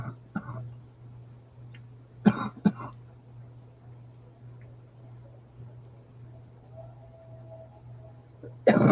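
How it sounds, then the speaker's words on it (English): A person coughs and clears their throat in a few short bursts near 0.5, 2.3 and 2.7 seconds, with another burst right at the end, over a steady low hum in a quiet room. "Excuse my cough."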